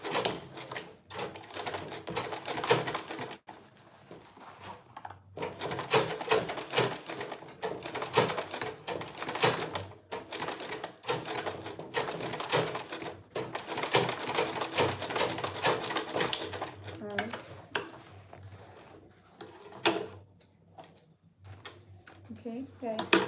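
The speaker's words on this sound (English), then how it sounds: "So I'm going to sew on the line, the stitch line again." A sewing machine stitches along the seam line of a beginner's fabric bag, a fast, continuous mechanical clatter broken by a few short pauses, close and fairly faint.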